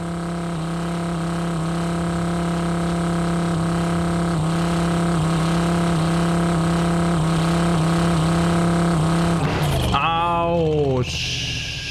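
A vehicle engine in the driving game Drive Beyond Horizons drones with a steady, tonal hum that holds for several seconds, then revs and wavers as a voice cuts in near the end.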